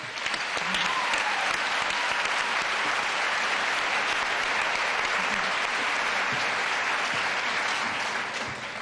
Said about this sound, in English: Big hand of applause, people.